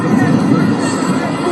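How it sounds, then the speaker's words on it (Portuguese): A large crowd of football supporters booing, a dense, continuous low roar of voices that holds steady and loud throughout with no pauses. "Só que já tinha muita gente vaiando"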